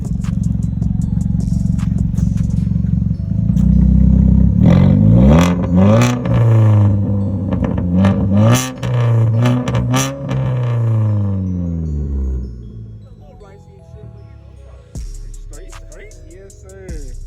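A 2001 Honda Prelude's engine revs hard several times, rising and falling in loud, close bursts, then settles back to a lower idle.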